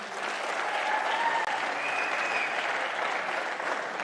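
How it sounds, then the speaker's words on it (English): An audience at a squash team match in Amsterdam claps for several seconds, a dense, even round of applause heard at moderate distance. "Round of applause for them."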